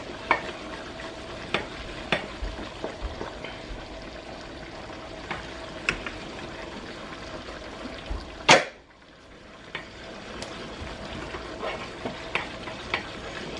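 Flour stirred in a cooking pot for a creamy soup, with a soft sizzle running throughout and a series of regular scraping ticks from the spoon, one louder knock partway through, and no talk.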